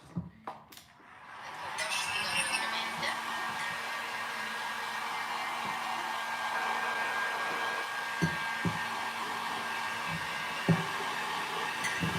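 A hair dryer drying a craft piece starts after a couple of handling knocks, then runs as a loud steady whir, with a few taps in the background.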